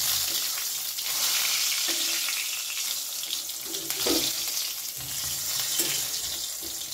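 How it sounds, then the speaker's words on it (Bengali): Slices of brinjal (eggplant) frying in a pan over a high gas flame, a steady loud sizzle and crackle with occasional stirring or turning scrapes, close by and with no talk. "গ্যাসের ফ্লেমটাকে হাইতে রেখে এবার বেগুনগুলো ভেজে নেব"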